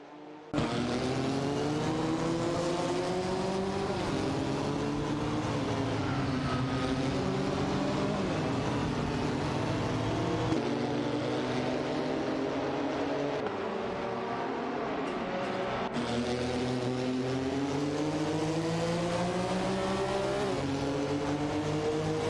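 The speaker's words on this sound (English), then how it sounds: "The competition remains tight as the drivers jostle for positions on the track." Race cars in a racing video game sustain a continuous engine drone, with several engines layered and shifting in pitch as they accelerate and change gear, loud and unbroken with no talk.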